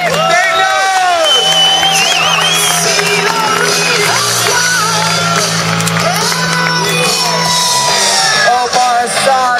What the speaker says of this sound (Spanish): Un aplauso para Grant Taylor.